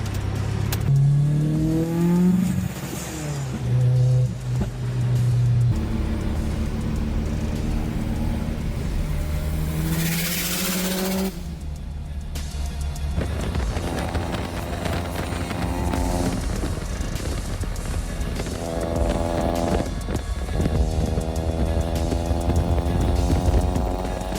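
A 900-horsepower Subaru race car runs the twisting Tail of the Dragon mountain road, its engine revving loudly through repeated rising pulls and gear changes, with bursts of exhaust crackle and droning harmonics close by.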